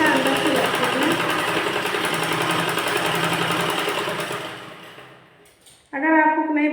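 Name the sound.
sewing machine doing cover stitching on a blouse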